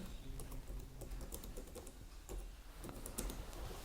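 Quick, steady tapping on a computer keyboard as a school name is typed in, soft and close by, with no voices.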